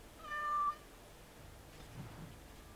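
A cat gives one short, clear meow in Dragon Age Awakening, then only a faint, low room-like hum remains.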